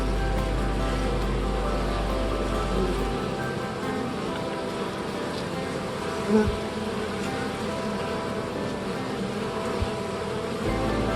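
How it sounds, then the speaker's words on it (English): Bees drone steadily around a pollen trap at a hive entrance, a dense, continuous buzzing from many insects with a few louder passes close by. "Some of the smaller bees, I guess, can get through, but for the most part, they're not even trying."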